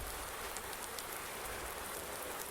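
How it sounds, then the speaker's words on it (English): Heavy rain in the video game Farming Simulator 19, a dense, even hiss of downpour that holds steady throughout with no other sounds. "It is really raining now. Raining really hard."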